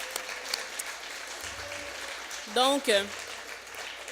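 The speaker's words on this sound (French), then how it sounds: "On l'applaudit, s'il vous plaît." An audience at an evening gathering in Quebec applauds a speaker, giving a steady wash of clapping that carries on under a brief spoken word from a voice near the end.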